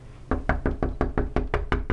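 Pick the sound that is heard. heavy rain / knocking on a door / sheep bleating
knocking on a door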